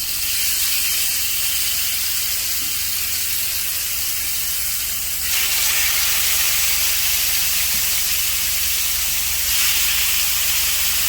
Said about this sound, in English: now we're trying to sear, so don't overcrowd the pan